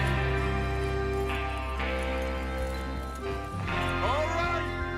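Horses clip-clop at a gallop in Red Dead Redemption 2, steady rhythmic hoofbeats close by under game music, with voices talking over them.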